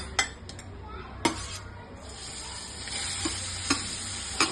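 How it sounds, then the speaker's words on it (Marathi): Grated amla drops into a hot pan with two cloves for awala muramba, giving a soft steady sizzle broken by a few sharp clinks of a spoon against the pan. "आणि 2 लवंग टाकते आणि आता हा आवळ्याचा किस टाकते"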